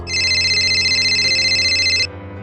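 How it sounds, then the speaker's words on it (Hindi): A phone rings with a bright electronic trill that sounds for about two seconds, clear and close, over a low steady background hum. "थोड़ी देर बाद उसका फोन रिंग हुआ"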